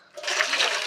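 Water pours out of a barrel in a short, rushing gush that builds quickly and keeps flowing strongly, close and fairly loud.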